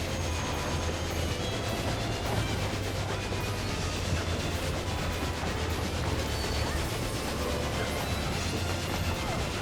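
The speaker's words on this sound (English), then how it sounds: "Damn, this train is hella loud, though." Loud, continuous rumble of a train in the video game Final Fantasy XIV Endwalker, a dense steady roar with a low hum and faint mechanical clatter, close and unbroken for the full stretch.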